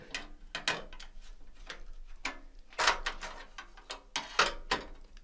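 A small plate being unscrewed from a PC case during a budget gaming PC build, giving close, dry ratcheting clicks and scraping metal ticks in short irregular bursts with brief pauses between them.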